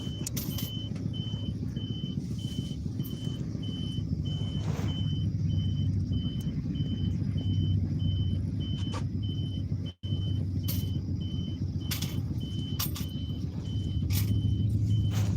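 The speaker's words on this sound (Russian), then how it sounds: "в автобусе еду" A city bus rumbles along Lenin Avenue in Yakutsk on a December evening with a steady low engine drone, interrupted by periodic high beeps and brief clatters from inside the cabin.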